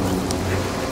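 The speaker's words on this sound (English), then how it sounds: "And the rain, too. It's just gotta be raining." Steady rain pours over a low, rumbling thunder bed in the video game Star Wars Jedi Fallen Order, a continuous dense wash with no voices.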